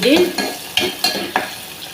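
Ridge gourd curry frying in a pan, a soft sizzle broken by a few sharp scrapes and taps of a spatula, close by, with no talking.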